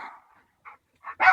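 A small black dog gives a few short barks, sparse at first and then a louder, sharper burst at the end, with silence between.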